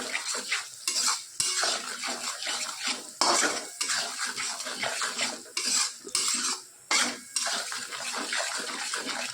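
Masala mixture being stirred in a pan, repeated scraping and clinking of a spoon against metal in uneven bursts with short pauses, close and clear.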